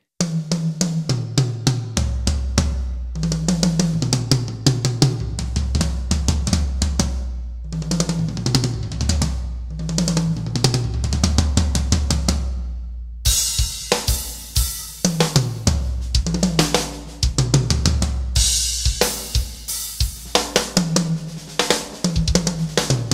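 Unmixed toms on a limited edition DS Drum Venom kit struck repeatedly in fills, deep resonant booming hits with cymbal crashes joining later, loud and close with no voices.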